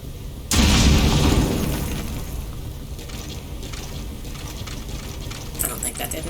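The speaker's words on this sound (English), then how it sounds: "Heard an explosion." A loud explosion in Metal Gear Solid V: Ground Zeroes bursts out with a sharp onset and a heavy low rumble, then fades into a lingering murky ambience with faint scattered noises.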